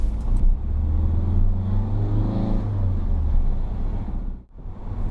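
A manual car creeps slowly out of a junction under clutch control, its engine giving a steady, low, close drone with a slight rise in pitch before it briefly dips and settles.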